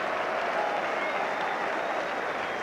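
Manchester United fans at a 1982 match against Sunderland applaud a player being substituted, a steady, distant roar of stadium clapping filling the whole moment without pause.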